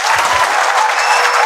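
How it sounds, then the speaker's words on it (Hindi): An audience bursts into loud, dense applause at an interview event with a top civil services exam candidate, many hands clapping continuously and close for the whole moment. "तालियां।"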